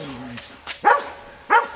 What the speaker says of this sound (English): Oh, the dogs are gonna bark.